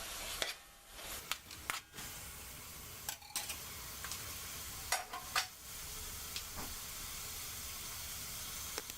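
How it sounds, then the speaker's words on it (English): Sofrito sautéing in a pot for rice with pigeon peas: a soft, continuous sizzle broken by several sharp clacks and scrapes of a spoon stirring, fairly quiet and close, no voices. "We're gonna add the sofrito, and we're gonna saute this"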